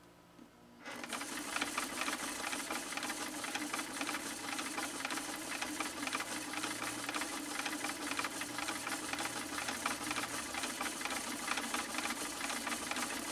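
A 1972 Kenmore 1318 sewing machine stitching through two layers of elk hide with a specialty stitch in a quiet workshop, starting after a second of near silence and then running steadily and loudly with a dense mechanical whir and rattle, no voices.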